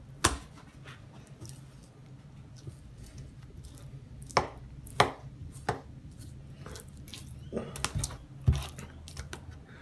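A knife scoring and cutting through marinated chicken for fajitas on a cutting board, a handful of sharp chopping taps scattered over about ten seconds with quieter scraping between, fairly close and moderately loud.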